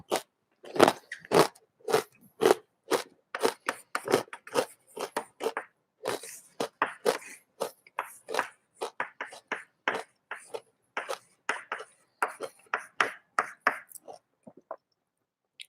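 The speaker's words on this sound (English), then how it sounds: "Sorry for the crunching." Loud, close crunching while eating something crisp, repeated bites in a steady rhythm running throughout, with faint speech mixed in.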